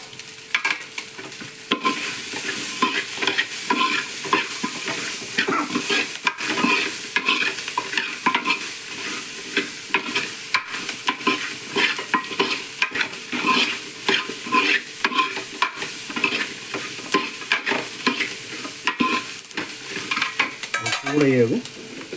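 Chopped onions, shallots, green chili and tomato sauté in a pan for a Kerala-style drumstick theeyal, giving a loud continuous sizzle broken by frequent scraping stirs of a spoon against the pan, with no talking.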